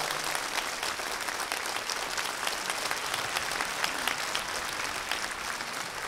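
Congregation applauding in thanks to the pastor during a Sunday church service, a steady, dense round of clapping filling the hall for about six seconds with no talk over it.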